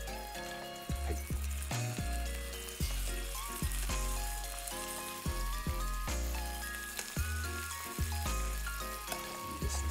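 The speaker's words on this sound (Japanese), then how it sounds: "このお肉の焼ける音ってなんて幸せなんでしょう" Pork spare ribs fry in a pan with a soft, faint, continuous sizzle, partly masked by background music.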